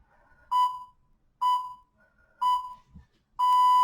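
Workout interval timer beeping during a total body conditioning class: four loud, clear electronic tones in a steady pattern roughly a second apart, the last one held longer, with almost nothing else audible.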